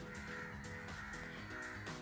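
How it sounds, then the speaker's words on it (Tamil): A crow caws loudly and repeatedly, harsh calls at a steady rhythm over constant outdoor background noise, with no voices. "காக்கா ரொம்ப கத்துது"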